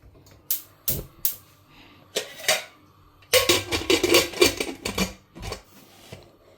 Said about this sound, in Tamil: உருளைக்கிழங்கு மட்டும் வதக்கி விடுறேன்.